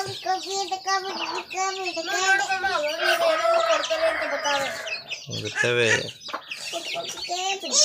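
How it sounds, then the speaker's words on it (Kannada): One-month-old country chicks peeping and cheeping continuously up close, a busy chorus of high chirps with a brief human voice speaking among them. "ನಾಟಿ ಕೋಳಿ ಮರಿಗಳು ಒಂದು ತಿಂಗಳಾಗೈತೆ ನಾಟಿ ಕೋಳಿ ಮರಿ"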